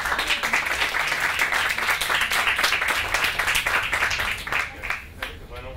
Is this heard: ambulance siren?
no